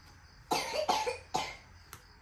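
Someone coughs in a home setting, a quick burst of three loud, harsh coughs followed by a softer fourth, close to the listener with a quiet background.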